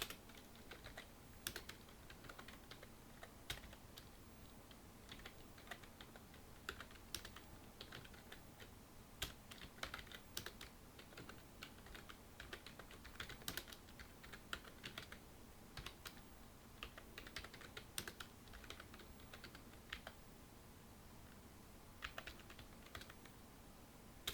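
Fingers tap on a computer keyboard in quick, irregular bursts of clicking keystrokes, faint but close, with a few louder presses standing out and no voices.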